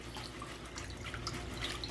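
Water swishing and trickling as rice is rinsed in a bowl with about a cup of grains, a steady soft splashing with small drips, close and continuous with no talk.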